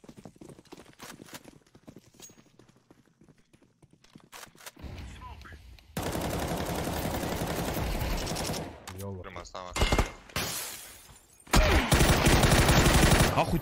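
Video game gunfire comes in loud bursts and sustained stretches that alternate with quieter clattering passages, while someone shouts over the action.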